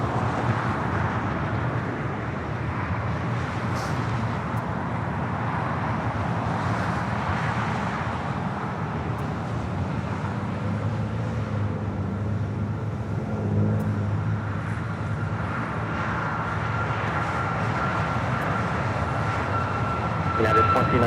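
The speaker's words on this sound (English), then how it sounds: "We do have Southwest Airlines heading to Vegas, flight 2522, a 737 MAX 8s." A Southwest Airlines Boeing 737 MAX 8 at LAX rolls down the runway for takeoff, its engines making a steady broad roar. Radio chatter and voices are heard faintly over it.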